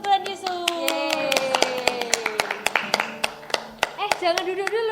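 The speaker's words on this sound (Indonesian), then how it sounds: "mari kita beri tepuk tangan untuk Tuhan Yesus" Children at a Sunday kids' worship service clap in sharp, irregular bursts alongside a singing, cheering voice, close and lively.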